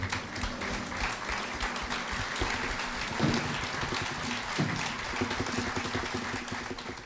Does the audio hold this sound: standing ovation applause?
yes